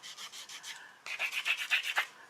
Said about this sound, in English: But this is my rough sanding